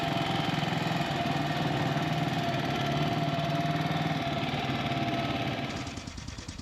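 A Matchless G80 500cc British single-cylinder motorcycle engine runs steadily and loud close by, then the note drops and fades near the end.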